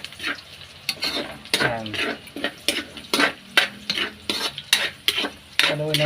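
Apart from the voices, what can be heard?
onion and garlic sautéing in a pan, stirred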